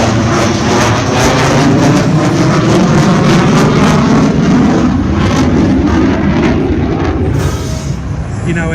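A jet aircraft flies over the crowd at the Wings over Illawarra 2022 air show, making a loud, steady, broadband roar that fills the whole clip while a commentator talks over it.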